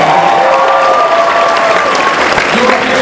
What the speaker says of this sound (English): Give yourself a round of applause for coming